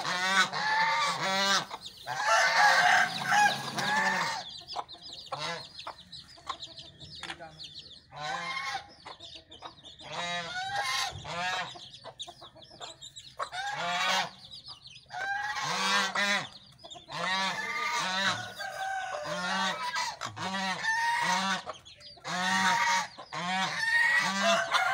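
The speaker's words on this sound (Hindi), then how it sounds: "हमारे पास फैंसी मुर्गियाँ भी हैं।" Fowl on a farm, including fancy chickens such as yellow Golden Heavy Buff birds, cluck and honk continuously in a loud, busy chorus of overlapping calls with no talking.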